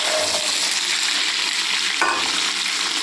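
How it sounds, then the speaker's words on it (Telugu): Potato pieces fry in hot oil with curry leaves and dried red chillies, giving off a constant, even sizzle. A couple of soft stirring scrapes sit over the frying, with no talking. "కరివేపాకు వేసుకొని కలిపి అవి వేగిన తర్వాత కొద్దిగా బంగాళదుంపలు వేసుకోవాలండి."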